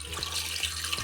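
Quail eggs are rinsed under a running tap before boiling in a pressure cooker, giving a brief, steady splashing stream of water close by with no voices.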